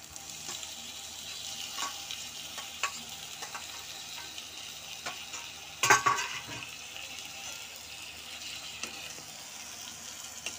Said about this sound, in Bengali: এবার আমি এটা কেটে রাখা টমেটোগুলো আস্তে আস্তে দিয়ে দেবো